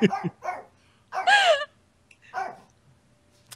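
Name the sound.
dog barking angrily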